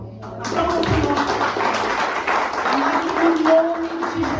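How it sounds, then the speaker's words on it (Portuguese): Church congregation applauding during a Portuguese-language worship service, a steady broad wash of clapping sustained throughout, with a voice speaking faintly underneath. "Aplauda o Senhor."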